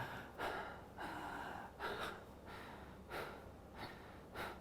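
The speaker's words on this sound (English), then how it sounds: "Unhealthy breathing patterns is when you're breathing quite fast and erratic," Fast, erratic mouth breathing, demonstrated as an unhealthy breathing pattern: a close, loud series of rapid gasping inhales and exhales in an uneven rhythm, with about six breaths in a few seconds.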